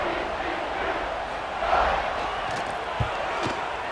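A stadium crowd in an American football video game roars steadily in the background, swelling briefly in the middle and punctuated by a few dull thumps near the end.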